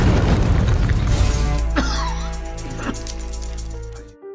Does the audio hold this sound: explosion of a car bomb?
yes